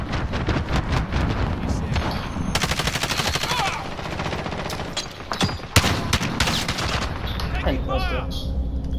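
Rapid bursts of automatic gunfire and shotgun blasts during a Warzone multiplayer hardpoint match, loud and near, with overlapping shots and in-game voice callouts.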